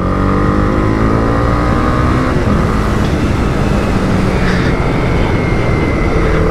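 A 2022 Honda CB300R motorcycle revs hard in second gear, its engine note rising steadily and loud with wind rush, pitch climbing and shifting as the bike gathers speed.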